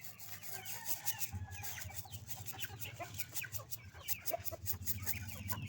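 Free-roaming chickens cluck and murmur nearby in a rural Philippine yard, with scattered bird calls and a low background hum.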